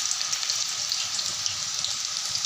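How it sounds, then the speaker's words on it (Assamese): Kata nimki pieces frying in hot oil, a continuous close, dense bubbling sizzle at a steady level throughout with no voices. "এতিয়া তেলত মই নিমকিখিনি বহুৱাই দিম"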